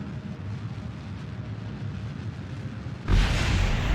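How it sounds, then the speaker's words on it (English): A rocket explodes in a space-building video game, a sudden loud broadband burst about three seconds in that breaks over a low, steady rumble and holds loud to the end. "There's the explosion."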